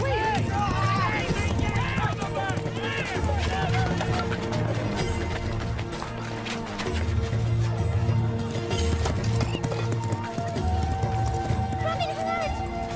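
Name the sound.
horse hooves galloping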